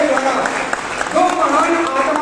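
Audience applause for Satyam Bhatia at an IMC leadership training celebration, a continuous crowd clapping that runs beneath a speaking voice.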